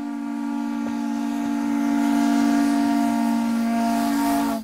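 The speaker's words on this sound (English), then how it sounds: "there's nothing regular about being able to step aboard an old steam train" An old steam train sounds its whistle in one long, loud, steady blast, strong and close, holding for several seconds before cutting off abruptly.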